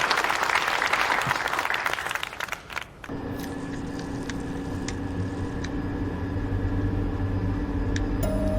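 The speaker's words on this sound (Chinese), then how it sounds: "让我们掌声有请新锐派作家" An audience breaks into applause welcoming a writer on stage, a dense burst of clapping for about three seconds that then gives way to a quieter room with a low, steady hum.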